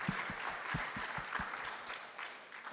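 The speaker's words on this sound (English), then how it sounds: "Let's give Amy and Ranjini a round of applause." A festival session audience gives soft, distant applause. A few nearer, sharper claps stand out over a steady patter that slowly fades over nearly three seconds.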